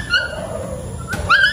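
A dog whimpers with thin rising whines close by at night, over a noisy rumbling background, with a brief sharp yip near the end.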